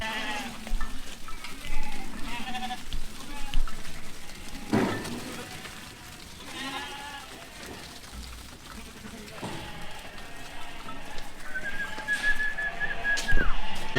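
Sheep and lambs bleat at intervals outdoors while being herded in, mixed with a few whistles and distant voices, moderately faint over steady background noise.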